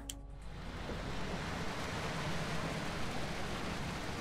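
Wet concrete pours continuously in the construction video game Construction Simulator 3, a dense, steady rushing wash that starts abruptly and holds at an even loudness, with no speech.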